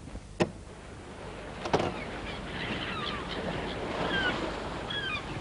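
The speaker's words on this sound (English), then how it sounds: "Seagulls and the sea." Soft, steady surf wash fills the background while several gull cries ring out, with a couple of sharp knocks early on.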